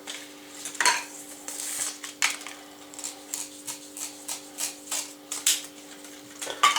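Reed stems are cut one after another to make tubes for mini apiary bee houses, giving a series of crisp woody snaps and clicks in an uneven rhythm, close and fairly clear, with no voices.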